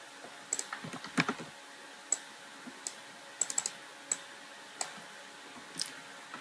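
Sparse, quiet keystrokes on a computer keyboard while a malware mind map is typed up, with single clicks and short bursts spaced irregularly and no talking.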